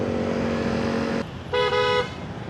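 Busy road traffic, with engines droning close by and two car horns sounding in turn, the second one a brief loud toot near the end; nobody speaks.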